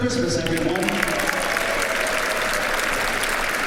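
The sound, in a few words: audience applause for tuba ensemble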